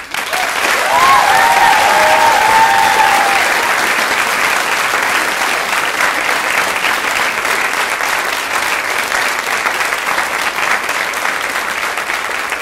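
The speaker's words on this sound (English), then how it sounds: "I think we should give them a round of applause." Sustained applause from a large audience at a school convocation for an arts school, steady and dense clapping filling the whole stretch at an even level, fading only slightly toward the end.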